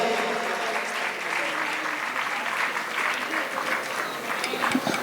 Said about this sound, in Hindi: मंदिर निर्माण के लिए जोरदार ताली बजा दीजिए